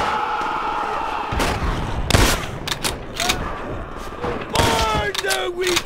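Rapid bursts of gunfire in the video game Call of Duty: World at War crackle and boom in quick volleys, with loud sharp shots breaking through a busy battle din and distant crowd-like noise.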